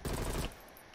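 A short, loud burst of rapid automatic gunfire in the video game Call of Duty: Black Ops Cold War. It lasts about half a second, then falls to a quieter tail.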